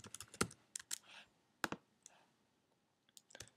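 Irregular bursts of sharp clicks from fingers typing on a computer keyboard, close and crisp, with short flurries of keystrokes separated by pauses and no talking.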